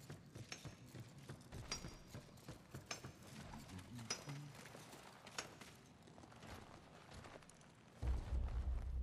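Horse hooves clip-clopping in the video game Darksiders III, a loose irregular run of soft hoof strikes under game music and effects, growing louder and heavier near the end.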